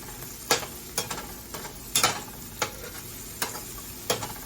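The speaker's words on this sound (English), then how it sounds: "hear that sizzle?" Onions sizzle in a pot as the base for beef stew, a soft steady frying hiss broken by about eight sharp scraping stirs at irregular intervals.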